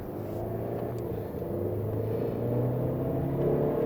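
Small Ford EcoBoost car engine heard from inside while driving, a steady low rumbling drone with a faint engine hum that rises slightly in level toward the end, no talking.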